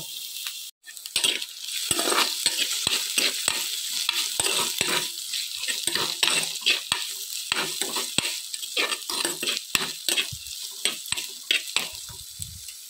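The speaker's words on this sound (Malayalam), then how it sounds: "വെളിച്ചെണ്ണ ഒഴിച്ചിട്ട് ഇഞ്ചി വെളുത്തുള്ളി ഒരു പകുതി സവാള പിന്നെ പച്ചമുളക് കറിവേപ്പില എല്ലാം കൂടെ വഴറ്റിയെടുക്കുക" Onion, ginger, garlic and green chilli sautéing in coconut oil for a traditional Kerala fish curry, a steady close sizzle broken by frequent sharp clinks and scrapes of a spoon stirring in the pan, with no talk.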